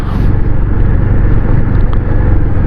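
A vehicle drives over a rough off-road track in Darma Valley, its engine rumbling loud and close in a continuous, dense roar with no one speaking.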